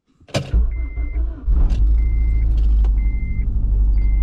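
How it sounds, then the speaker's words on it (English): A car engine cranks and fires on a cold start, then settles into a loud, steady low idle up close, with a repeating high chime beeping about once a second in the background. "did a bit of a cold start here on the car"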